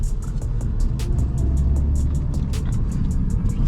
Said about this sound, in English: I'm going to do a quick little run with the BMW before we take it to the garage.